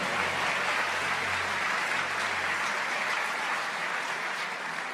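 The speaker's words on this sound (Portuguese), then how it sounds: "Pode aplaudir mais forte." A church congregation applauds, a dense, even wash of many hands clapping that holds steady and fairly loud for the whole stretch, with no distinct voices rising above it.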